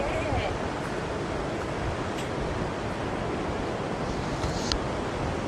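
Waves breaking and washing on the beach at Middleton on a breezy day: a continuous close roar of surf mixed with wind buffeting the microphone, and brief faint higher chirps now and then.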